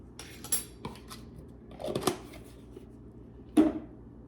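A spoon scoops cottage cheese for a berry smoothie, with clinking utensil knocks against a container, a few sharp taps and scrapes spaced out over a few seconds in a quiet kitchen.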